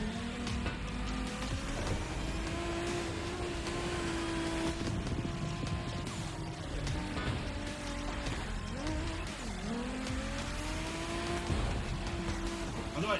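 A car drifts among Japanese drift cars in The Crew Motorfest, engine droning steadily with long wavering tire squeals rising and dipping as the car slides, loud and close throughout.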